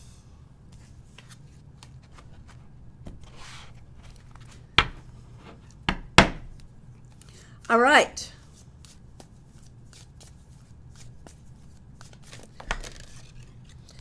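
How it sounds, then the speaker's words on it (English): Tarot cards shuffled in brief bursts of riffling and sliding, with a distinct flurry near the middle, set against a quiet room and a short spoken phrase. "I'm shuffling for you, and the cards are just going all over the place."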